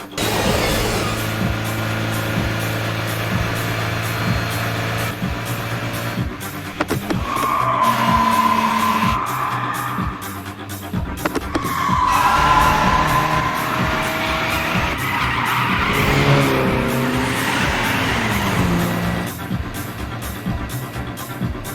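Anime race scene of a Toyota AE86 battling an Evo 4 downhill, with loud sustained tire skidding and squeal over engine roar and a music bed, two long screeching slides around the middle, continuous and close.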